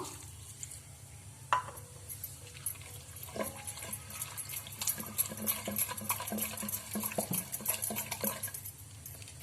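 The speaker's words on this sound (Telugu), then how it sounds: "చింతపండు నానబెట్టుకున్నాం కదా, ఆ వాటర్ వేసుకోవాలి కొంచెము" Soaked tamarind water pours and splashes into a pot amid soft clinks and stirring sounds of cookware, fairly quiet and close.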